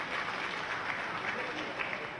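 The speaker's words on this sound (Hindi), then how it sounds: "जोरदार ताली बजाकर उनका भी अभिनंदन करें।" A large crowd at a BJP political rally in Bhopal applauds continuously, a dense steady wash of clapping heard from amid the audience with no pauses.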